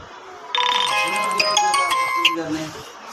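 A bright electronic ringtone chimes through a repeating melodic pattern for a couple of seconds, with faint talk in the background.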